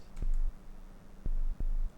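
Three short, low, pure sine-wave synth tones made in Serum pulse with clicks at their starts and gaps between, quiet and alone.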